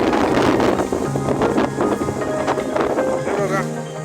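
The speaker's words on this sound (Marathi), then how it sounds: "जोरात हवा चालू आहे." Strong gusty wind from an unseasonal monsoon storm roars and buffets loudly across the microphone throughout, with fluctuating rushes and faint tonal hums underneath.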